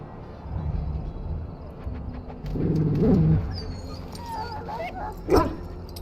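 An injured mabari war dog whimpers and yips in its pen in Dragon Age Origins, soft whines building to a sharper bark near the end over a low ambient bed.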